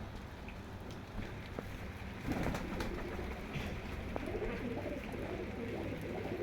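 Teddy pigeons coo softly and low against a steady background hiss, their murmuring calls faint and scattered across a few seconds.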